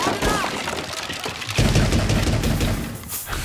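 Gunfire in the video game Rainbow Six Siege cracks in quick bursts, with rapid automatic shots and sharp impacts layered close together over a few seconds.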